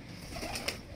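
A Lahore fancier's pigeon gives a brief soft coo, a single short call at close range with a quick higher note near the end, over faint background hiss.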